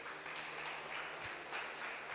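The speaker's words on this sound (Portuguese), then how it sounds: "Aplauda o Senhor, igreja." A church congregation applauds during a worship service, a faint, far-off wash of many hands clapping that holds steady without pause.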